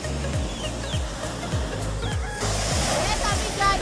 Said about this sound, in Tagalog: May mga manok dito maamo.